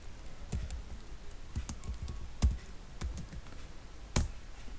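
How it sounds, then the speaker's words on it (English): Keys on a computer keyboard click in an irregular, quiet run of taps, with a few sharper, louder keystrokes, close by and with no talking. "let's type font ninja."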